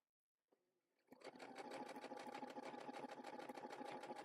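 Sewing machine stitching a bag, a small tap at first, then the motor running up into a fast, steady, even rattle of needle strokes that continues loud and close to the end.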